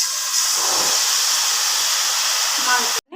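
A loud, steady sizzling hiss of batter frying in hot oil in a wok fills the clip, cutting off abruptly near the end.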